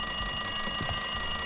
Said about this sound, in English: It looks like that phone's ringing.